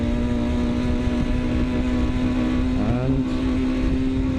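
A 2003 Yamaha TDR 125 two-stroke motorcycle engine runs loud and close with a steady buzzing tone, then rises sharply in pitch near the end as it revs.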